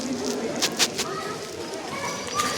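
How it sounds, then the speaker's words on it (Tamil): Birds coo softly in a Dubai butterfly garden, with a few short, dove-like calls rising over a steady background hush. "கொஞ்சம் சில பறவைகளும் இருக்குது"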